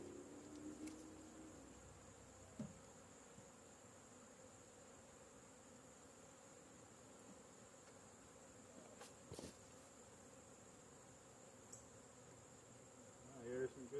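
Honey bees buzz around a comb while being shaken off and moved from Langstroth to Layens frames; a faint, steady hum holds throughout, broken by a few soft knocks.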